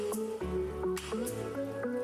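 Salted napa cabbage for homemade kimchi is squeezed by hand, giving a few soft wet squishes and drips of water, quiet and close, with no talking.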